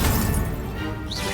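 A fire spell cast in a video game lands as a brief, loud crashing burst with a bright crackling edge, fading over about a second with no voice over it.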